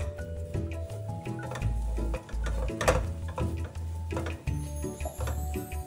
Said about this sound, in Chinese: 一直拌炒至沙葛有点变软后